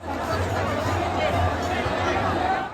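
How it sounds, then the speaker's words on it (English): A protest crowd gathered at Jantar Mantar in Delhi in the evening gives off a steady, loud babble of many voices with no breaks, close by and filling the whole space. "You can see the crowd behind me."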